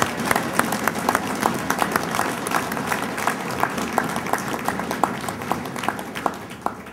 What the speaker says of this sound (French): On va les applaudir tout de suite.